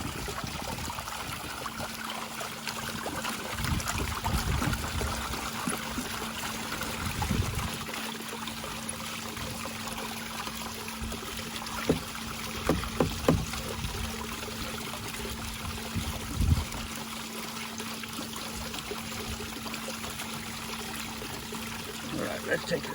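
Water sloshing and trickling in a gold pan as trommel gravel is panned out, a continuous close watery swirl with occasional gravel clinks, a voice speaking at times.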